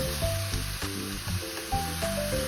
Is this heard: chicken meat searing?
yes